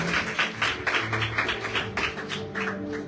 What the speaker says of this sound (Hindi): आइए जोरदार ताली बजाइए यीशु के लिए।